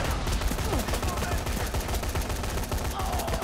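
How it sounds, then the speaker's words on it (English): Gunfire, including an assault rifle, rattles in the zombie action game Dead Rising 3 during co-op play: fast, continuous shots run throughout, loud and close. "Why are you shooting me?"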